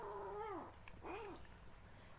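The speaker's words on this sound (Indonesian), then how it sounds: "Maaf ya teman-teman kalau misalnya ada suara ngeong-ngeong." A domestic cat meows indoors twice in quick succession, fairly faint and close, with no talking.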